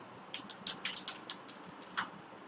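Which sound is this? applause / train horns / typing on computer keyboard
typing on computer keyboard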